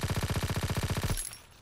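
A suppressed M1928 submachine gun in the video game Call of Duty WW2 fires one rapid burst of about fifteen evenly spaced, thudding shots, loud and close, then cuts off into a faint fading tail.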